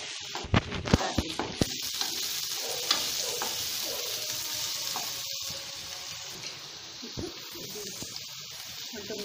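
Chopped ginger frying lightly in oil for veg manchurian, a continuous sizzle with sharp clinks and stirring knocks near the start, close and fairly loud, no talk.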